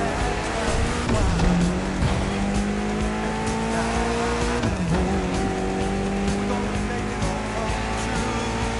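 A Mitsubishi inline four-cylinder of about 280 horsepower, tuned for gymkhana in The Crew Motorfest, revs steadily with shifting engine tones and brief tire squeal, loud and close throughout.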